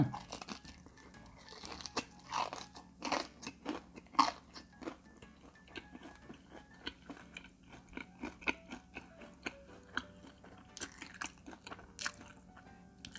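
Someone bites into a crispy battered fried chicken drumstick dipped in mayonnaise: sharp, close crunches and wet chewing repeat steadily throughout, with no talking.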